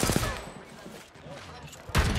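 Bursts of rapid gunfire in the video game Apex Legends, with a loud volley at the start and another at the end and quieter shots between.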